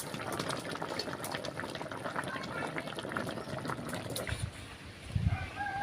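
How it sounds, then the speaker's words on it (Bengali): A pot of fish curry bubbling on a village stove, a steady soft boil with fine popping and gurgling bubbles, close and fairly quiet, with a couple of faint knocks near the end. "আবারও ঢাকা দিয়ে ভালো করে ফুটতে দেব"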